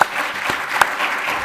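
Short burst of audience applause after a panel talk at a farming governance conference, steady crowd clapping throughout with no talk over it.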